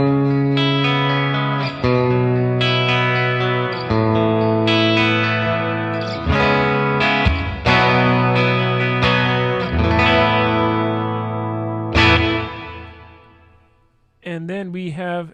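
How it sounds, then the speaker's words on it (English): Electric guitar run through the hall reverb mode of a Red Panda Context pedal, strummed chords and single notes with a longer lingering wash, loud and unaccompanied, fading out before a short wavering closing phrase. "And next is the hall reverb."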